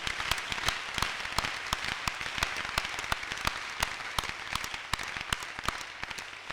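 A congregation at a Friday evening church service applauding, a run of fairly quick, sharp claps with a slight echo, moderately faint and without talk.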